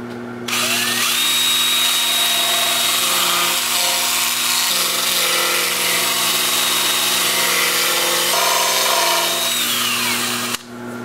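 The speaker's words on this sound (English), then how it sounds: "I'm going to start the sanding by using my Sandoflex on this natural edge." A handheld Sandoflex sander works the natural edge of a thin turned wood bowl, a steady whirring drone with harmonic hum and a brushing, abrasive hiss that runs loud and close for about ten seconds before cutting off.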